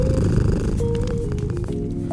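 A cat purrs close and loud, a steady rumbling throb running unbroken for the whole stretch, with no talking over it.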